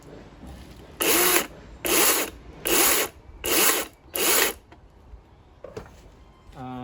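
A DeWalt cordless chainsaw revs in five evenly spaced, loud bursts, each under a second long, with quiet gaps between them. It then falls silent except for faint clicks.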